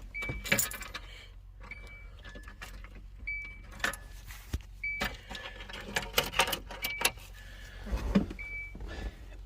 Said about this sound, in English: Let me put the keys in here.